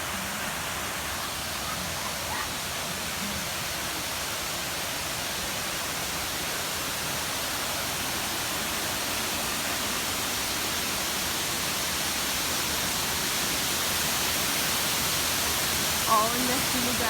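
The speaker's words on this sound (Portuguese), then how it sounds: "agora a gente chegou aqui em outra cachoeira" Water pours continuously from a waterfall in a canyon in Sengés, Paraná, a dense, even rush that stays close and loud throughout, with no pauses.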